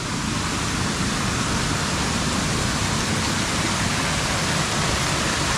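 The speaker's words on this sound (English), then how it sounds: "We'll go down here and look at the water coming out of the mill" Water pours out of the Mingus grist mill beside Mingus Creek in the Great Smoky Mountains, a loud, constant, broadband rushing close by, steady and unbroken with no voices.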